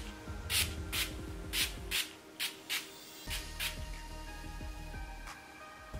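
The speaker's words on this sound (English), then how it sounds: "I'm gonna go ahead and spray my face a few times and then let that dry" All Nighter setting spray misted onto a face during rodeo queen makeup, several short sharp spritzes in quick succession, close and clear over low background noise.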